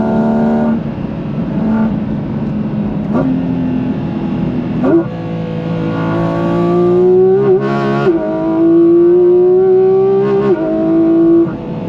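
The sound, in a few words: sports car engine accelerating hard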